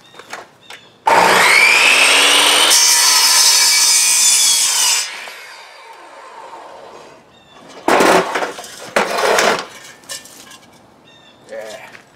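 A power saw fitted with an old carbide blade bites into aluminum trailer metal, giving a loud, harsh screech for about four seconds that fades, followed by a few shorter rasping bursts.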